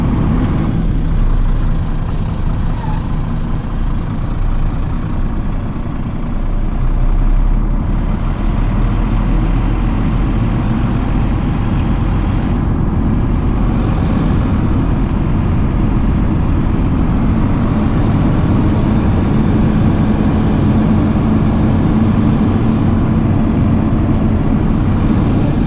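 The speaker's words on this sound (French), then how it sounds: "Nous allons donc passer maintenant à l'alignement du porteur sur la remorque." A truck tractor unit idles and maneuvers to line up with its trailer, its engine a steady, loud, continuous rumble close by throughout, with no voices.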